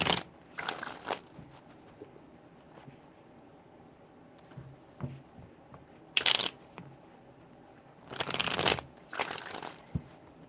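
Tarot cards riffle-shuffled in several quick bursts, crisp close flurries separated by quiet pauses, with a few soft handling taps in between.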